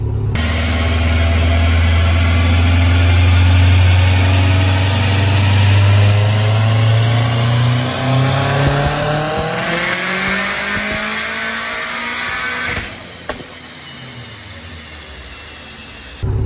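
A car rated at 456 horsepower on pump fuel, over 500 at the wheels, runs on a dyno: a loud, steady engine drone climbs through the revs over several seconds, then cuts off sharply near the end.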